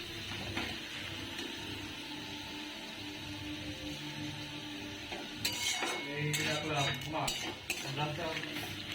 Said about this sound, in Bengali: টমেটোগুলো দিয়ে ভালো করে নাড়াচাড়া করে নিলাম